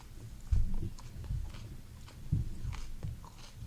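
Close, crisp bites and chewing of a raw Fatalii hot pepper, a few sharp crunches followed by softer wet mastication, quiet with no talking.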